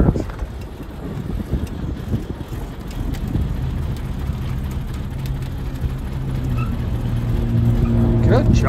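A 1938 Cadillac Series 75 Town Car driving slowly through a near U-turn, its low engine rumble and road noise steady and close, swelling slightly toward the end, with people talking over it.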